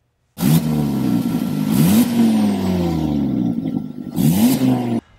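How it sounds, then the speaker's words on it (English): A car engine with an exhaust leak revs loudly several times with a raspy, blatting exhaust tone, rising sharply then settling, close by with no talking. "This could mean you have an exhaust leak."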